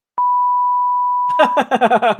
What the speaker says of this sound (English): Swearing beep.